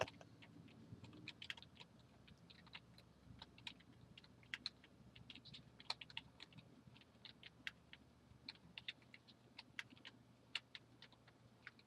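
Touch-typing on a computer keyboard, a rapid irregular run of light key clicks at steady density for several seconds, close and fairly quiet with no talk.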